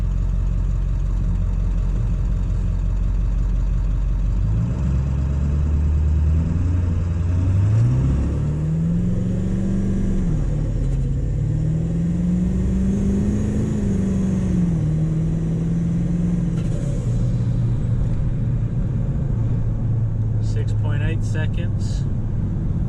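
A 7.3 Powerstroke diesel truck accelerating under boost, the engine note climbing and wavering as revs rise in steps, loud and close from inside the cab with a steady road rumble and faint chatter.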